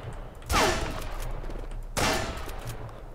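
Gunfire in the survival video game Mist Survival, two loud close gun blasts roughly one and a half seconds apart, each followed by a decaying rumble, with no talk.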